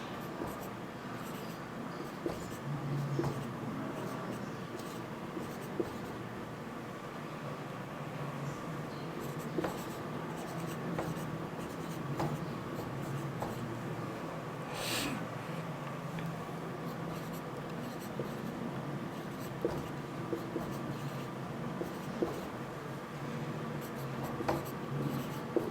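Pen scratching steadily on paper while multiplication tables for 4 and 12 are written out by hand, a continuous soft close scribble with small pauses and no talk.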